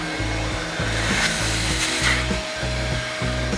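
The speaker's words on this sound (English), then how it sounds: "drill a hole to mount your relay and apply paint so it won't rust" A power drill whirs in short repeated bursts, its motor pitch cycling up and down steadily as it bores a relay mounting hole in an old Dodge's engine bay.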